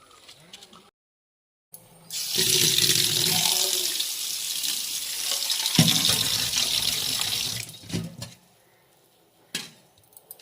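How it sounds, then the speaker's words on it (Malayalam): Tap water runs steadily over a single panikoorka herb leaf being washed, a close hissing stream lasting several seconds with brief splashes before the flow stops, no talking. "നന്നായിട്ട് വാഷ് ചെയ്തു ഇതിനകത്ത് ചിലന്തി വലയോ എന്തെങ്കിലും ഉണ്ടോ എന്ന് നോക്കി നമ്മൾ നന്നായിട്ട് വാഷ് ചെയ്തെടുക്കും"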